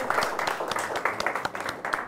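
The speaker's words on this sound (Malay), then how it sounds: "Bagus, Siti Aisyah berikan tepukan." A classroom of students clapping in a rhythmic, patterned beat, several sharp claps in quick repeating groups, close and moderately loud.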